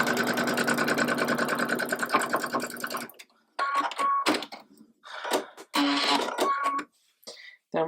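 Sewing machine stitching a quilt block seam through the X of a constellation block, a fast steady mechanical hum for about three seconds, followed by spoken instruction.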